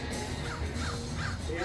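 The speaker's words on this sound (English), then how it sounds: "Oh, Mama Crow." A crow caws repeatedly in short hoarse calls, spaced roughly evenly, under a constant wash of background noise and talking voices that sit over the calls.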